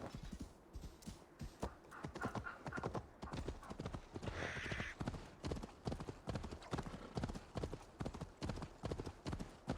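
Horse hooves clip-clop steadily in Assassin's Creed Valhalla, a close, rhythmic trot of repeated hoofbeats that carries on throughout, with a brief whinny-like tone partway through.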